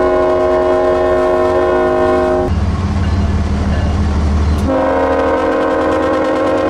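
A loud freight train departs, its horn sounding in sustained blasts with a deep rumbling pause between them, the steady roar of the engine and cars continuing throughout.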